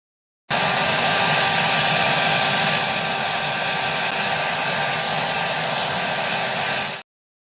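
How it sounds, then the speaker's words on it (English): A helicopter's engine and rotors make a loud, steady whine and roar with constant broadband noise and a high tonal hum. The sound holds unchanged for about six and a half seconds and then cuts off abruptly. "Joe Biden bonks his head on a helicopter getting out."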